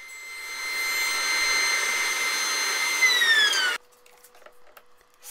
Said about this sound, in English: before I glue them, I'm going to edge joint them, just to get that perfect no gap seam between each boards